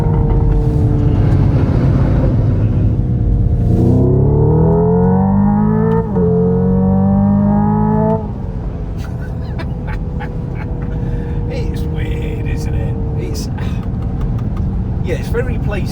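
Hyundai Ioniq 5 N electric car's simulated engine note climbing in pitch through several gear-shift steps, with distinct drops at each shift, then settling into steady road noise with someone speaking over it.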